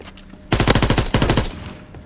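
Automatic weapon fire in the World War II shooter Call of Duty WWII: two loud, close bursts of rapid shots, one long and one shorter, standing alone over faint background noise.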